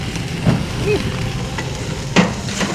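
A burger bun toasts in mayo in a frying pan, giving a steady, soft sizzle with occasional stirring and scraping sounds close by.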